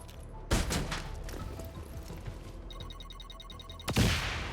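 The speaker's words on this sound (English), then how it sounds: "Explosions!" Two heavy explosions in XCOM: Chimera Squad boom a few seconds apart, with rapid mechanical gunfire rattling between them and a rumbling tail after the second blast.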